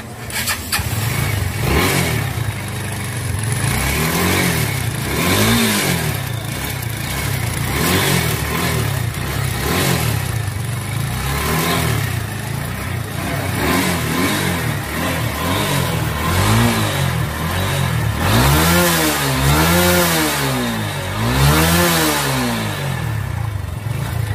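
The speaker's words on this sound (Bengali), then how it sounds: "এবার আমি গাড়িটা স্টার্ট করব। দেখেন সাউন্ডটা কি অবস্থা।" A Bajaj Pulsar motorcycle engine, under repair for faults, starts and then idles roughly. It is revved repeatedly in rising and falling surges, loud and close throughout, with no talking.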